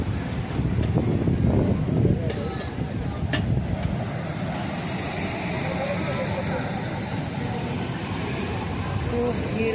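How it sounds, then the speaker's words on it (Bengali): Wind blows steadily across the open seashore at Digha beach in the evening, a constant broadband rush with gusty low rumble, loudest in the first few seconds and continuing throughout with no voices. "আমরা সমুদ্রের পাড়ে চলে এসেছি।"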